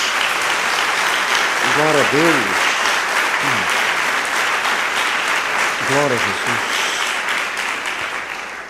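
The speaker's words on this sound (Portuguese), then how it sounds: "Dê uma salva de palmas a Jesus." Church congregation applauding in sustained, dense clapping that tapers slightly toward the end, while a voice calls out praise over it.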